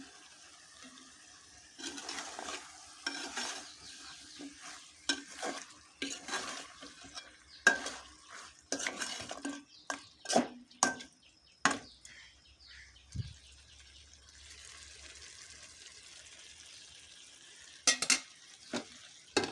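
Country chicken meat frying in a pan while being stirred, with scraping stirs and bursts of sizzle coming in irregular clusters, fairly close and moderately loud, no voices.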